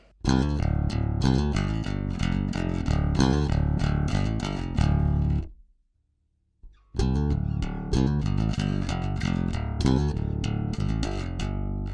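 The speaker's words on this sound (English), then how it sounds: "here's the sound of my bass, completely clean with no processing on it at all" A clean, unprocessed bass guitar plays a busy run of plucked notes, pauses briefly in near silence, then resumes the punchy line.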